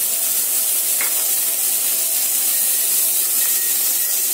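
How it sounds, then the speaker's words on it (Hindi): Ginger garlic paste and broccoli fry in a pan over low-medium heat, making a constant bright, hissing sizzle with faint scraping from stirring. "इसे लो मीडियम टेम्परेचर पर ही इसे फ्राई होने देंगे 1-2 मिनट तक, और फ्राई होने दें।"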